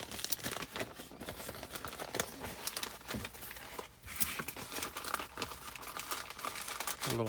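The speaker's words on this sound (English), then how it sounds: "I'm just gonna put them in this little envelope." Small items are slipped into a little paper envelope while packing a shipment, giving soft continuous crinkling and rustling of paper at close range, with no one talking.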